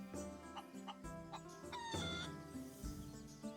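A chicken clucks repeatedly in the Touch Type Tale video game, a run of tonal cackling calls rising and falling over steady game music, fairly faint.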